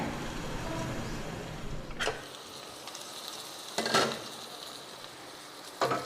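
Brinjal and curry leaves sautéing in a pan, a loud, steady sizzle for two seconds that drops to a muffled hiss as the lid goes on, broken by a few sharp clinks of metal.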